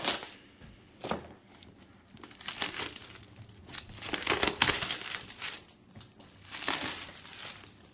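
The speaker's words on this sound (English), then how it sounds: "I'm gonna get my ceramic knife here to cut through the packaging" A ceramic knife cuts through crinkly plastic packaging on a new board game box, making quiet, close crackling and crumpling in irregular bursts.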